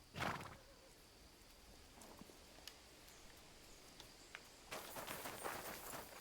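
In the video game Kingdom Come: Deliverance II, a horse whinnies briefly at the start, then sparse clip-clop hoofbeats sound, with a louder burst of hooves and movement near the end.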